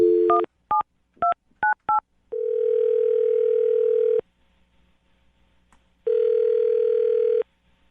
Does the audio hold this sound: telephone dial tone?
yes